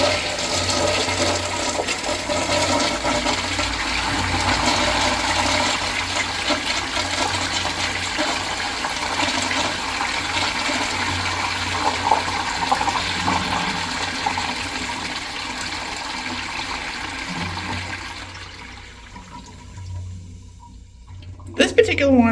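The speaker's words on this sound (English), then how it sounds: "Let's have a look at a flush." A 1960s-1990s Crane Purton siphon-jet toilet flushes with a long, loud rush of water that roars steadily for about eighteen seconds, then drains and fades into a gurgling tail with a few clunks at the end.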